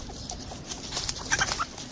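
Farm chickens clucking near a goat shed, several birds giving short overlapping clucks and squawks at close range, busier toward the end, with no talking.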